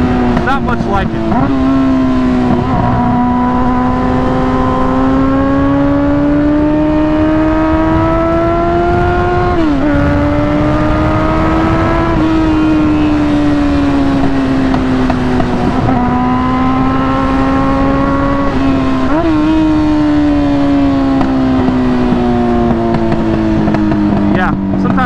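A 1994 Honda CBR900RR Fireblade's carbureted inline-four, running through straight pipes, roars loud and close for the whole stretch, its pitch climbing and dropping repeatedly with revs and gear changes, a continuous raspy drone.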